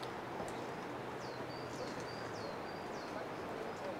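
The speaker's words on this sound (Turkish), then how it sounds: "akarsuyun sesi, kuşların cıvıldaması" Birds chirp in short, repeated calls beside a steady rushing mountain stream in the Trabzon highlands of the Black Sea region, the water a constant wash with the birdsong faint above it.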